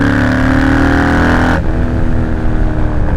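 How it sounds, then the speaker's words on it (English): A Triumph Bobber motorcycle with its catalytic converter removed roars loudly and close as the throttle is opened, holding a strong rev before it abruptly falls away into a rougher, lower engine note. "But as soon as you give it gas,"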